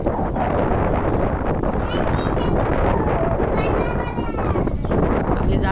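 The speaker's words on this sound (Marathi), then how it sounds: "पहा किती जोर केलाय पावसाने. मस्त वारा सुटलाय." Strong wind during heavy rain rushes steadily and loudly across the whole clip, a dense roaring wash with gusty buffeting against the microphone and no clear pauses.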